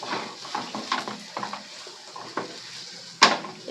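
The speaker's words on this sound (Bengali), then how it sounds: "এই যে চিকেনের পুরটাকে একটা প্লেটে নামিয়ে নিচ্ছি।" Cooked chicken patty filling is scraped from a pan onto a plate in a kitchen, making soft scraping and stirring scuffs with scattered light metal clinks and one sharp clatter near the end.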